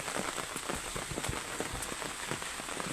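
Steady rain patters on a surface at a temple, a dense hiss of drops with scattered louder splashes, constant throughout and with no voices.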